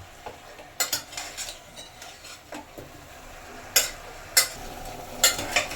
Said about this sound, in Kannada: ಅದರಲ್ಲಿ ಚಿಕನ್ನ ನೀಟಾಗಿ ಸ್ವಲ್ಪ ಒಂದು 2 to 3 minutes ಫ್ರೈ ಮಾಡ್ಕೊಳ್ಳೋಣ